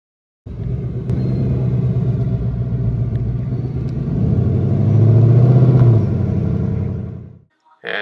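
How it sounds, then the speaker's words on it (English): A 2018-or-newer Mustang with a 5-liter direct-injection V8 and 10R80 automatic rumbles loudly past on a track, deep burbling exhaust building and swelling before cutting off abruptly near the end. "here's a nice 2018 and newer direct injection 10R80 automatic 5-liter Mustang"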